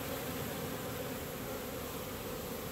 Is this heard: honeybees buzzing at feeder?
yes